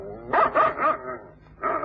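A dog barks several times in quick succession, then once more after a short pause, close and fairly loud in an old-time radio drama scene.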